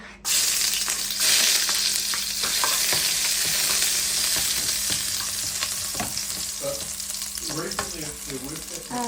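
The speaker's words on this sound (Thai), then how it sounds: "อันนี้น้ำมัน ใส่แล้วใส่กระเทียมลงไป" Garlic fries in hot oil in a wok for a Thai stir-fry of vegetables and shrimp, a loud, steady sizzle close by with scattered clinks and scrapes of stirring throughout.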